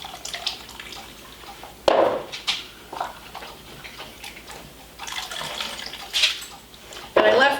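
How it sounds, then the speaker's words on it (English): Water poured and drained off microwaved potatoes from a cup, splashing and trickling in several bursts with drips between, close and moderately loud, no talking. "just drain the water off out of my cup"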